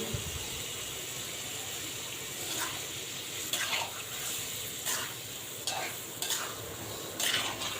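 Rice being stirred in a pan makes a soft, close sizzle beneath repeated scraping and rustling strokes that come in irregular bursts at a low level.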